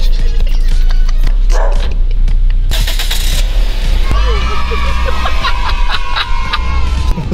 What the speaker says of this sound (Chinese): 哇，那个狗吠声真是弄到全部东西